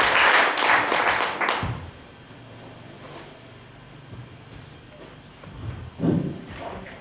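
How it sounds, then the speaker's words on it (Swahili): Congregation at a Pentecostal Sunday church service claps in a brief loud burst that cuts off after under two seconds, leaving quiet room tone with a few scattered knocks and a later short clatter. "Mpe Yesu makofi yako"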